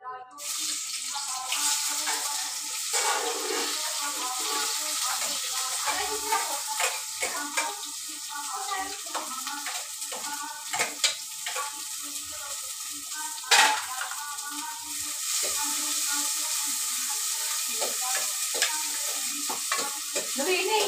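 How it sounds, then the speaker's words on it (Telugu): Onions sizzle and fry in oil in a pan over a wood-fired stove, a steady bright crackling hiss close by, broken by frequent scraping stirs and small clinks of a utensil, with faint voices now and then. "ఇప్పుడు వచ్చేసి ఫస్ట్ ఆయిల్ పోసిన కదా, ఆనియన్ వేస్తున్నా."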